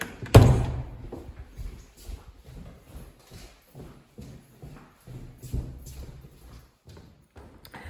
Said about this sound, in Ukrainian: Закрийте двері.